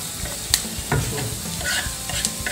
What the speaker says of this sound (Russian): И продолжаем жарить.